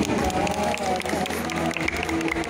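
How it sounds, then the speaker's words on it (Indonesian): Children clap together in a steady stream of applause at an afternoon gathering with a clown, with crowd noise and a voice faintly underneath. "Adik-adik boleh kita beri tepuk tangan untuk Bapak Gunardi."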